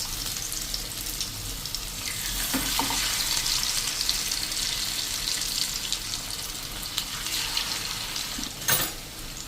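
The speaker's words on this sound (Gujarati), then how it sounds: "કેમ કે આપણે હાઈ ફ્લેમ ઉપર જ આ સેલો ફ્રાય કરશું" Potato and gram-flour snack pieces shallow frying in hot oil over a high flame, a steady broadband sizzle throughout with a few sharper crackles and pops near the end, close and continuous with no talking.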